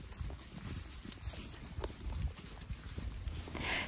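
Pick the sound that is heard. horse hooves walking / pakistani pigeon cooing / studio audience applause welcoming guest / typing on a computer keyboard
horse hooves walking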